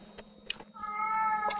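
A single clear cat meow from the video game Infinity Skyblock, drawn out over about a second after a few faint clicks.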